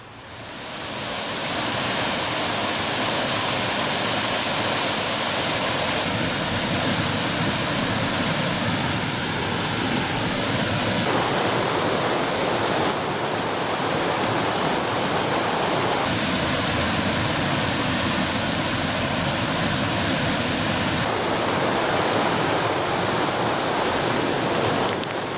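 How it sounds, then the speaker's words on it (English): River Wear flowing beside a riverside footpath in Weardale, a loud, continuous broadband rush of water, close and steady, alone without talk. "I dropped down some steps as the Weardale Way continued to follow the riverside"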